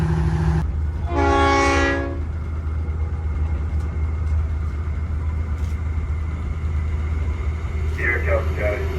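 A Swan Hill passenger locomotive on the Mallee line sounds a long, loud horn blast over a steady, heavy engine rumble as it approaches, with a shorter horn note near the end.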